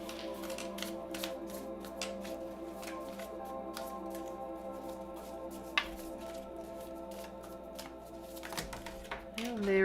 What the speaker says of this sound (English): Let me give these just a little quick shuffle.